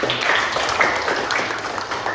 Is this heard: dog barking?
no